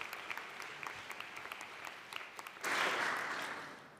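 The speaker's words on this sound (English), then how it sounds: "So another quick round of applause, please." Applause from a PyCon UK lightning-talk audience, starting as scattered individual claps and swelling into a fuller round before fading slightly.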